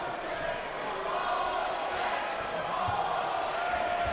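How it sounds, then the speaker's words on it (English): A gym crowd watching boxing sparring makes a constant dense roar of murmuring and shouting, loud and all around, with no single voice standing out. "Well, the crowd is starting to get on them."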